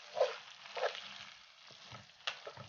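Shrimp frying in garlic butter being stirred in a pan, a soft sizzle with a few scraping strokes of the utensil, close and moderately quiet, no talking.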